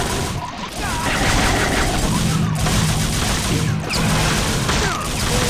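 Steady gunfire and blasts fill a Doom-style game map, forming a dense, continuous barrage of shots and crashes that runs throughout with only brief dips.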